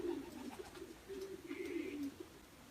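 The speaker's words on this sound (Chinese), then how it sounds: "我的第3羽鸽子啊，就跟在第2羽鸽子后面就进来了" A racing pigeon returning to its loft after a 530 km race in strong wind gives soft, low cooing calls, faint and close, in short repeated bursts.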